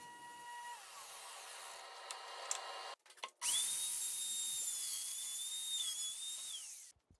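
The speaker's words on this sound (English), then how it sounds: "I'll cut out those corners" A power tool cuts out the corners of an epoxy river table, whirring steadily at first, then stopping briefly before a louder, close, high-pitched whine runs for several seconds and cuts off.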